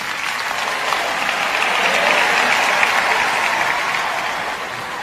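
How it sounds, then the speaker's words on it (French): A church congregation applauds loudly and continuously during a sermon, a thick, sustained wash of clapping from a large crowd that swells slightly in the middle and stays strong throughout. "Applaudissez plus fort que ça"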